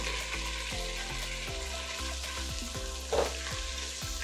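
Nut paste with ginger paste and spices frying in a pan, a steady close sizzle with crackling, rhythmic scrapes of a stirring utensil and a short hiss partway through.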